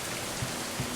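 Rain falling in the Going Medieval video game: a steady, soft hiss of drops with two dull low thumps partway through, and no voices.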